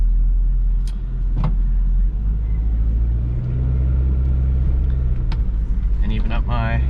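Toyota MR2 with an SMT sequential manual gearbox pulling away in first gear, a steady low engine rumble close by with brief clicks and a short burst of voice-like sound near the end.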